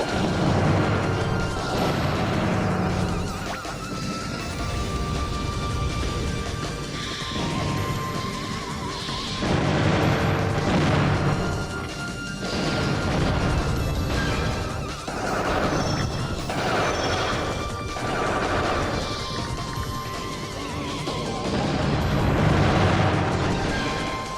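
Explosions hit the player's robo in the Custom Robo video game, repeated heavy booms and crashes rolling over a loud, dense game soundtrack for the whole stretch.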